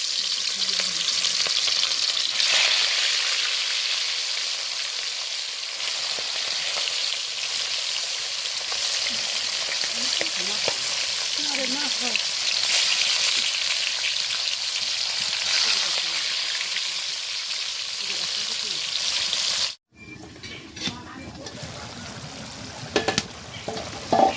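Hilsa fish frying in a pan gives a loud, steady crackling sizzle for about twenty seconds, then cuts abruptly to quieter kitchen sounds with a few clicks.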